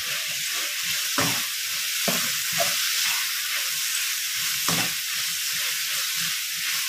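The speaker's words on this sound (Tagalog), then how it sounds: "Sabay na natin yung ating carrots. Ihalo natin ito" Carrots get stirred into vegetables frying in a pan, a loud continuous sizzle and hiss close up, broken by a few scraping stir strokes of a utensil, with no voices.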